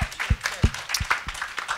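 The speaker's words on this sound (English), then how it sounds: "Are you guys going to applaud after every time we say please something?" A panel audience bursts into scattered applause, with uneven, sharp claps close by and fading in and out for a couple of seconds.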